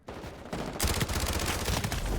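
Gunfire in the Call of Duty Modern Warfare beta, starting with quieter shots and then breaking into a loud, dense burst of rapid shots from about the midpoint to the end.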